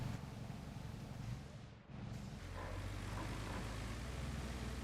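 Vehicle engines in the game RoadCraft give a loud, continuous low rumble with a brief dip partway through.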